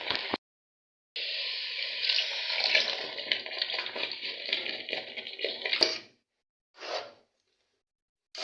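Water pours into a tomato mixture for a beef tomato sauce, a close, steady hissing rush lasting several seconds, then stopping, followed by a brief second splash.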